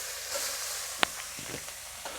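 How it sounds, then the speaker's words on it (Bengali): Carrots being fried in ghee over a low flame for carrot halwa: a steady close sizzle and hiss with a few soft stirring scrapes and clinks, and no voices. "এবারে গাজরগুলো দিয়ে দিচ্ছি,"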